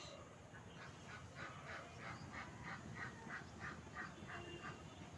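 A duck on a rooftop in the rain calling for its missing mate, a rapid run of regular quacks repeating about every few tenths of a second, faint and distant against a steady background hiss.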